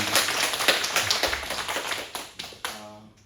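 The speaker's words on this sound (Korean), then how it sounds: "박수를 한 번 더 영광드리겠습니다" A church congregation at a Sunday worship service claps for the choir, a dense burst of sharp, close hand claps that thins out and stops within a few seconds, with no talking.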